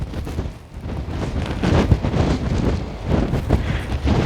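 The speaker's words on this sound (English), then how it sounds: "The wind is great." Strong wind buffeting the microphone on an İzmir municipal ferry deck in heavy waves, giving a loud, continuous roaring rumble that surges and dips, with no talking.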